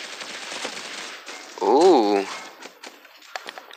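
Rapid automatic gunfire in the mobile shooter Critical Ops, a brief tight burst of shots with people talking throughout.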